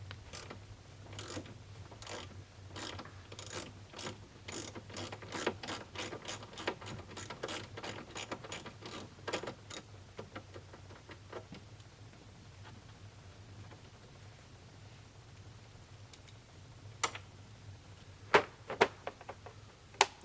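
A socket wrench ratchets on a bolt while a hitch is fitted to a Ski-Doo Grand Touring snowmobile, giving a run of quick, evenly spaced clicks that slow and fade, then a few sharp isolated clicks near the end.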